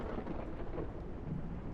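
Steady rain with a low rumble of thunder rolls on continuously in the Pub Sim bar-management game, a dense even wash with no pauses and no talk.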